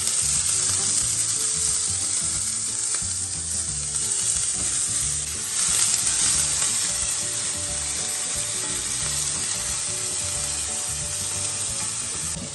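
Ginger, garlic and green chilli sauté in hot oil with a loud, continuous sizzle and crackle, close up and steady throughout, with occasional stirring and no talking.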